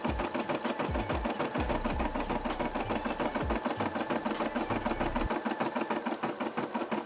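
A Brother SE600 embroidery machine stitches a Nike check design with a fast, steady mechanical chatter of needle strokes. It runs close and continuous with a few low thumps of the hoop shifting, and no voices.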